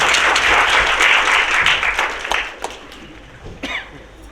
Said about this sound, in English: Let's have a big round of applause for everyone present here to celebrate the ceremony.